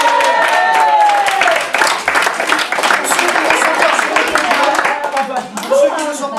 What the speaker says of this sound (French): Mesdames, mesdemoiselles, messieurs, vous pouvez applaudir Mathieu